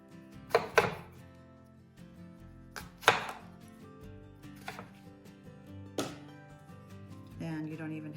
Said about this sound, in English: We're going to go ahead and core up this mealy apple.